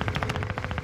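Rapid gunfire in Call of Duty Warzone, a fast even burst of loud cracking shots under sniper fire, heard close and continuous.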